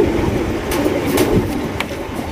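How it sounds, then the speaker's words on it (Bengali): Golla pigeons coo softly at a pigeon farm within a dense, busy murmur of birds, with faint higher chirps and rustles rising above the steady low hum. "এখানে রয়েছে আরো একজোড়া গোল্লা কবুতর দেখতে পাচ্ছেন"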